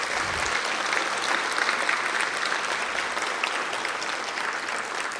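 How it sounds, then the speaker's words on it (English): Sustained applause from an audience at a Los Angeles County awards ceremony, a dense, steady clatter of many hands clapping that holds at an even level throughout. "Please applaud all of those people who bring us all of this beauty."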